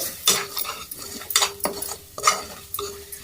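Chilli powder and garam masala being stirred into fried onions for paneer masala: a series of scraping, clinking strokes of a utensil against the pan, close and fairly loud, over a soft background sizzle.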